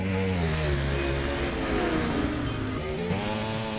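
An above-700cc motorcycle in the racing game RIDE, on the North Wales North Circuit, its engine note sliding down in pitch under heavy braking, then revving back up, loud and continuous with no talking.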